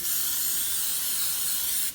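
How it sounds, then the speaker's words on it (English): Cooking spray greasing the bottom of a springform cake pan, heard as one continuous close, bright aerosol hiss lasting about two seconds before cutting off. "even though I'm spraying the bottom, even though I don't really need to, because it helps"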